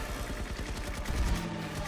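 Rapid bursts of video game gunfire crackle in quick succession in a first-person shooter, shooting rabbits on a farm, a steady volley of shots with a low rumbling thump partway through.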